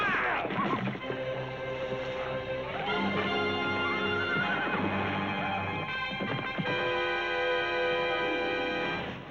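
A trained stunt horse whinnies loudly during a staged fall for an action film, the neigh rising and falling over dense, constant background noise and rumble, with hoofbeats mixed in.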